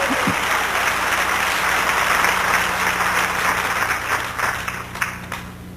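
A church congregation at a New Year revival service breaks into applause: thick, sustained clapping over a faint low hum, loud throughout and scattering slightly toward the end.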